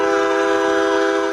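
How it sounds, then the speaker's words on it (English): Extremely loud train horns mounted high in a backyard tree blare in one sustained, harmonically rich chord that stays constant and deafening throughout. "Deafening train horns that were placed high on a tree in his backyard."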